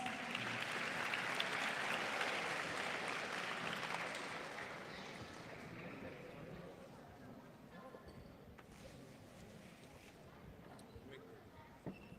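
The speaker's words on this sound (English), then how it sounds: "Give them a big round of applause." Audience applause welcoming a dance team at an Onam celebration held in the Canadian Parliament, clapping loudest at first, then fading to a thinner patter after four seconds, with murmuring voices underneath.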